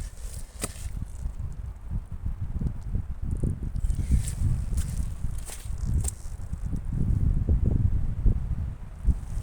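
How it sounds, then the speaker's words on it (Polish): Gusty strong wind buffeting the microphone at a World War I military cemetery in Sękowa, with low rumbling bursts, interspersed with rustling and a few sharp clicks, continuous throughout. "dosyć mocny wiatr, oby zmiany pogody nie było"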